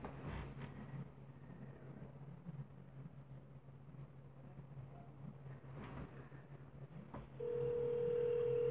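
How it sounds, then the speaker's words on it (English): A telephone call rings out on the line, with a steady electronic ringback tone starting near the end over a low background hum. "You guys can hear that? It's ringing."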